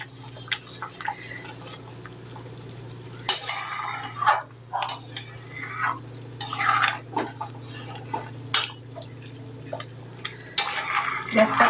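Mango pickle with jaggery cooking in a pan is stirred with a metal spoon, giving irregular clinks and scrapes over a low steady hum, with faint bubbling and a voice murmuring quietly at times.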